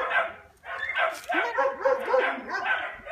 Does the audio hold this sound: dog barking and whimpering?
yes